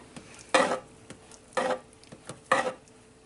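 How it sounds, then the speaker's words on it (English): Beef stroganoff cream sauce cooks down in a pan, a close, low sizzle and bubbling broken by three loud scraping stirs spaced about a second apart, with no talking. "Let it cook. This has to cook down."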